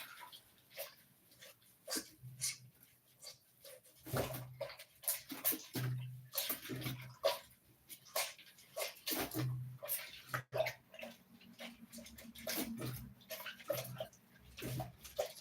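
Bitter leaf rubbed and scrubbed by hand in a bowl of water, irregular wet squelching and sloshing bursts with pauses, close by.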